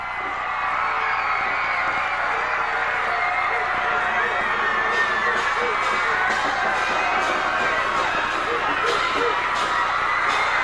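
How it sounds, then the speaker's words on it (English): Spectators at a high school football game between Benton and Springdale cheer from the stands, a steady distant roar of crowd voices and shouts, with faint chatter woven through it. "You hear the cheering on the sideline"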